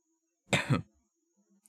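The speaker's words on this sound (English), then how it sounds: "I'm so sorry that I'm coughing so much," A close, forceful double cough in quick succession, followed by quiet small noises.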